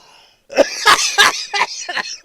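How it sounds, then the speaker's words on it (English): A quick series of five harsh coughs, close and loud, following a brief moment of near silence. "Because I'm coughing."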